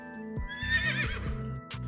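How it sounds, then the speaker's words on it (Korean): A horse neighs as a sound effect for a handmade zombie horse toy, a loud whinny with rising and falling pitch over a few soft clip-clop hoof beats. "히힝! 이 좀비 말은 빠르진 않지만 이웃들을 놀래키게 할 수는 있답니다."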